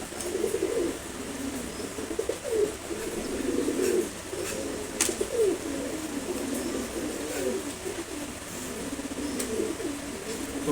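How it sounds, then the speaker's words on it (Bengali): A male Ghiya Chulli pigeon coos in repeated soft, low rolling phrases over a quiet background hum, close but fairly faint, with a few brief clicks between calls. "ঘিয়াচল্লি কবুতর, এটা নর কবুতর।"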